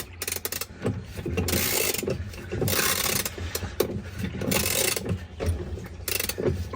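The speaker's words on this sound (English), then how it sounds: "I just tighten it till it's snug." Ratcheting wrench tightening a bolt on a GE washer gearcase, part WH03X33729, a rapid run of close, loud clicking and metallic mechanism noise with short pauses, no talking.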